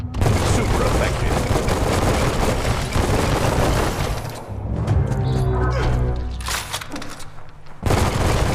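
Gunfire and explosive booms from the video game Biomutant, a dense, continuous barrage of shots and blasts filling the soundscape, with a brief lull before the firing resumes loudly.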